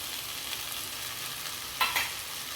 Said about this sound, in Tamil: இப்போ நான் இந்த ப்ரான்ஸை போட்டுக்கிறேன்.